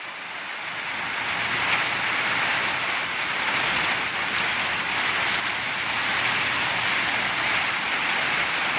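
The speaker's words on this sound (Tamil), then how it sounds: "திடீரெண்டு மழை வந்துட்டு பாருங்க நல்ல மழை பெய்யுது" Heavy rain pours steadily on a surface in a village, a dense, constant hiss with no pauses and no voices.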